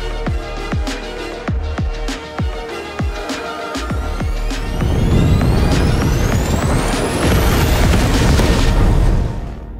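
Pyrotechnic charges on a fantasy-series battle set, dragon-fire scene over a city: a run of sharp loud booms in the first half, then a dense roaring wash of blasts and fire with a rising whine.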